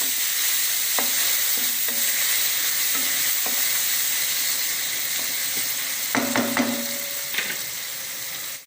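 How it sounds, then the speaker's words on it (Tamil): Steady sizzling of food sautéing in a frying pan with turmeric powder, with occasional clinks and scrapes of a utensil stirring; a louder cluster of taps near the end. "நல்லா வதங்கிட்டோம்"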